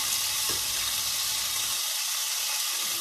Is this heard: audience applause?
no